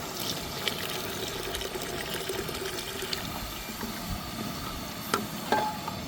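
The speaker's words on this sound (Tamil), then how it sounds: "தேவையான அளவுக்கு இன்னும் கொஞ்சம் நம்ம தண்ணி சேர்த்துக்கிறோம்" Water poured into a simmering egg omelette curry trickles and sizzles steadily in the pot, a continuous bubbling wash with a few brief clinks near the end.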